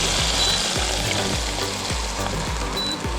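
Hot oil from frying onions, poured over spices for a sweet chilli noodle sauce, sizzles loudly and steadily up close, with a rhythmic scraping of stirring running through it.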